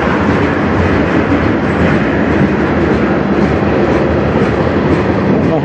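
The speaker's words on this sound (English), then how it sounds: "Train for the night." A CN freight train passes close by in Peterborough, a loud, steady roar of rolling cars with rumbling wheels and faint clickety-clack that fills the whole stretch without pause and with no voices.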